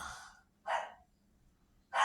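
A dog barks three times in short, sharp bursts with quiet gaps between, fairly close and loud against a near-silent background.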